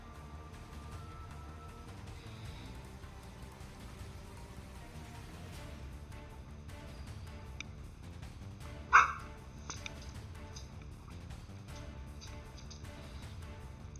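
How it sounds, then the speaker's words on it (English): Dogs barking outdoors, one sharp bark standing out midway with a fainter follow-up, distant against a steady rain-like background hiss. "those pesky other dogs out there"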